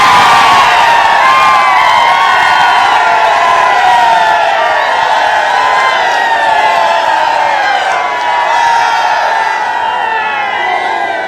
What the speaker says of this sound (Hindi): मैं ऐसा करता हूं 10-15 सेकंड आपको दे देता हूं, चीखे मारनी है चीखे मार लो